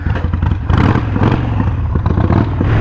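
A Harley-Davidson Sportster 883 engine catches and runs after failed starts, a loud, close, rough throbbing with clattering that holds steady throughout.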